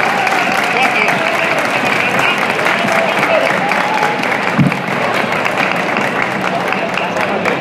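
A crowd at an anime convention in Valencia applauds a singer, sustained clapping and cheering with some voices mixed in throughout.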